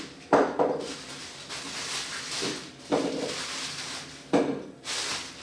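Dishes, pots and pans being handled and washed in a home kitchen, with four loud clattering bursts spaced a second or so apart over steady running-water hiss.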